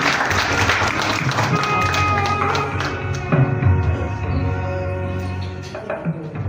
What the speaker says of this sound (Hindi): जोरदार तालियां श्रीमती बीना जोशी जी के लिए